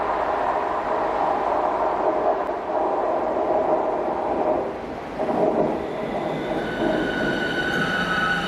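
A train rumbles steadily through a station on the North Wales Coast Line, a broad continuous roar with a brief dip midway and rising tonal squeals toward the end, fairly close and with no voices.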